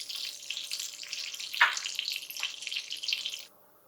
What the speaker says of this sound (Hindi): इसके अंदर हम ये जो लहसुन है ये शामिल कर देंगे और अब इसको हम लाइट ब्राउन होने तक फ्राई कर लेंगे